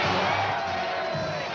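A large stadium crowd at an NFL pro football game cheering, a dense continuous roar of many voices, loud and sustained for a brief moment.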